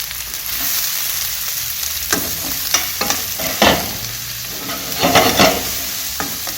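Garlic, onions, carrots and cabbage stir-fried together over very high heat, a loud continuous sizzle broken by sharp scraping and tossing strokes that cluster toward the end, with no talking.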